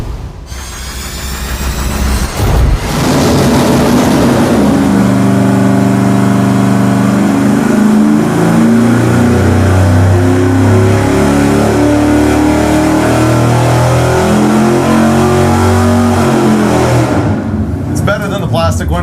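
An engine on a dyno, fitted with a fixed aluminum cooling fan, revs up and holds a loud, sustained roar for about fifteen seconds, with its pitch wavering slightly before it cuts back down.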